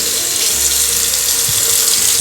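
A tap runs steadily into a sink while something is rinsed, giving a loud, continuous hiss and splash of water close by with no gaps.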